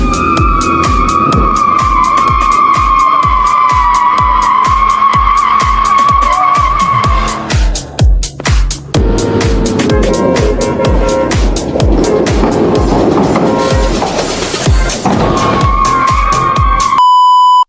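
An off-road vehicle pulls a stuck excavator free from the back during a rescue, with loud engine roar, skidding tires and revving bursts that rise and fall throughout, alongside a steady tonal whine.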